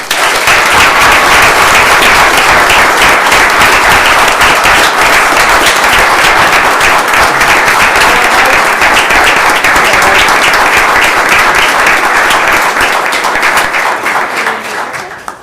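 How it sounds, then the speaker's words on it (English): A town council meeting crowd applauds a police officer: loud, dense, continuous clapping from many hands, sustained for about fifteen seconds and tapering slightly at the end. "Can everybody please give him a round of applause?"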